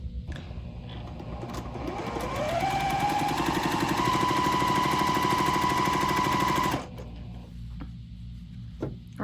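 A sewing machine stitches quilt pieces together, starting slowly, then speeding up into a fast steady mechanical rattle with a rising motor whine for several seconds before it stops abruptly and the room goes quieter.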